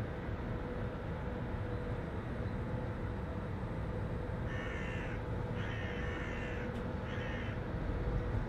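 Crows caw repeatedly in a train simulator on the ICE 788 run from Hannover Hbf to Hamburg Altona, with several clear calls over a steady, loud rumble of the moving train.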